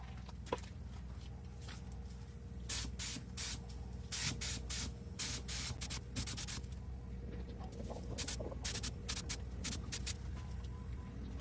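A second coat of spray paint goes onto a car door under repair for a rusted hole: repeated short and longer bursts of hissing spray, close and fairly loud, over a constant low background hum.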